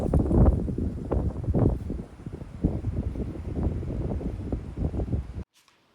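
Strong outdoor wind blows in gusts across the microphone, rumbling and buffeting loudly for several seconds before cutting off abruptly, with no one talking.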